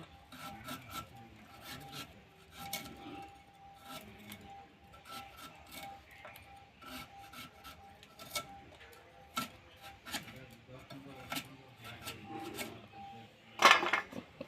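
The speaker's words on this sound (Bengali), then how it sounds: "এখন আমি এই চালতার খোসাটা ছাড়িয়ে নেব।" Elephant apple (chalta) fruit is peeled by hand, giving close, repeated rasping and scraping strokes in an irregular rhythm, with a brief sharper scrape near the end and no talk.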